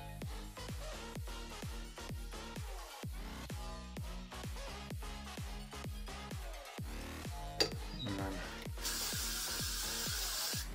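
A can of hairspray hisses in a steady burst of spray onto a vintage poodle wig, heard near the end over louder rhythmic background music.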